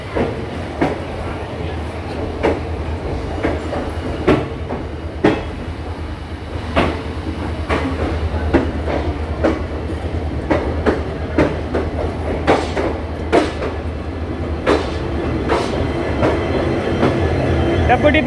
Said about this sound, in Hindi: जनशताब्दी एक्सप्रेस के एम्प्टी रेक्स